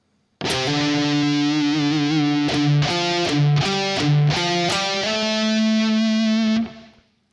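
A distorted electric guitar plays a short riff from a solo, sustained overdriven notes with bends and slides, ringing out loudly before cutting off near the end.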